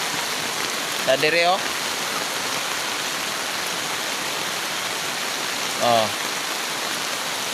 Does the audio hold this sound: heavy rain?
yes